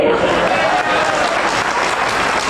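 Dense, sustained applause from a crowd at a Hindi comedy poetry recital, loud and continuous throughout with no pauses.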